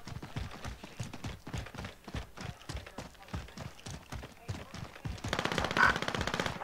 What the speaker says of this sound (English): Shots behind us.